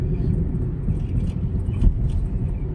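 A car drives along a road in Saudi Arabia, heard as a steady, close low engine and tyre rumble that continues throughout, with a brief heavier thump partway through.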